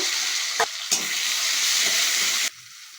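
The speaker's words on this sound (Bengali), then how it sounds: "এই তেলের মধ্যে কালো জিরে আর জিরে ফোড়ন দিলাম পেঁয়াজ কুচি টমেটো কুচি দিয়ে নিয়ে নেব" Nigella and cumin seeds sizzling loudly in hot oil, with onion and tomato, a continuous close hiss with a couple of sharp clinks before it drops away suddenly near the end.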